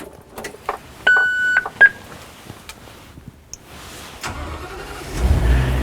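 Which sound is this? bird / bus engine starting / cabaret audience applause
bus engine starting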